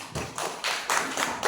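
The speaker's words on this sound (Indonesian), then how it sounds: "Tepuk tangan dong." A small group of students at a school gathering claps in a few uneven bursts of taps and thuds, close and fairly loud, over about a second and a half.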